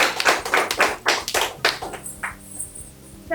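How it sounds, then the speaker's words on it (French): A few hands clap in a rapid burst of sharp, close claps for a judge on a TV show, then the clapping stops abruptly and leaves a quiet tail. "Un peu d'applaudissements"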